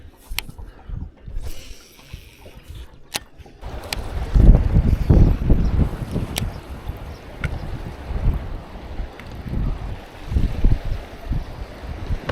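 Gusty wind buffets the microphone in irregular low rumbles and bursts during a bass fishing tournament, with occasional sharp knocks and clicks, loud and close throughout.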